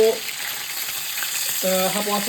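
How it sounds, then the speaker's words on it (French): Fish pieces frying in a covered pan give a steady, close sizzle throughout, with a few short tonal clinks near the end. "Et là, je place un par un de poisson dans le poêle. Couvrir pour ne pas sauter. Laissez frire."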